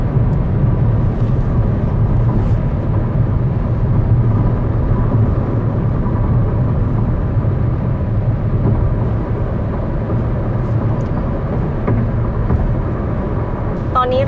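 Outside road noise fills the cabin of a BYD Dolphin Standard Range electric car while driving, a constant loud low rumble of tires and wind that carries on without a break.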